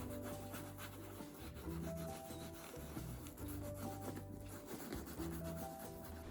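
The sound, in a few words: rubbing leather with the inside of a banana peel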